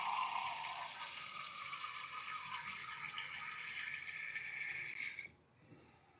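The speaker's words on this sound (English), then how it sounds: "Gonna have to add some water to make coffee." Tap water runs steadily to fill a coffee maker, a continuous close hiss and splash for about five seconds before cutting off, with no talk.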